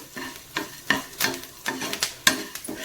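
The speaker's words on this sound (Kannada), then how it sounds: "ನೋಡಿ ಇದು ಕೂಡ ಗರಿ ಆಗಬೇಕು, ಅಲ್ಲಿವರೆಗೆ ನಾವು ಫ್ರೈ ಮಾಡಬೇಕಾಗತ್ತೆ" Curry leaves fry in a pan as a spatula stirs in repeated close scraping strokes, roughly one every half second, over a crackling sizzle; nobody speaks.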